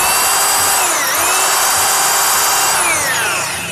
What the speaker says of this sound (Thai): การเจาะกระเบื้องนี่อย่าเพิ่งปรับกระแทกให้ปั่นธรรมดาไปก่อนนะครับ